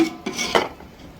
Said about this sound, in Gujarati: હવે અહીં આપણે છે એ તપેલામાં છે આ રીતે કાંઠો મૂકી અને ઢોકળાને સ્ટીમ થવા માટે મૂકી દઈશું